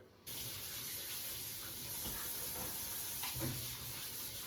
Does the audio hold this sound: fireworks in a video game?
no